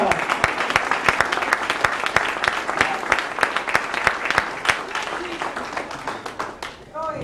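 An audience at a religious youth gathering breaks into sustained applause, many hands clapping in a dense, steady patter close by, with a voice emerging near the end.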